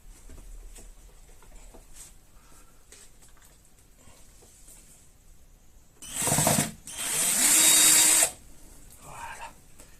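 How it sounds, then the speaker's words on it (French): A power drill drives screws into an alarm mount, giving two loud, close bursts of whirring, one short and one longer, over a quiet room. "Je vais visser."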